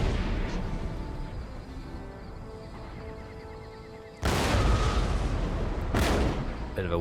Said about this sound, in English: Bit of a weird sound delay with the cannon there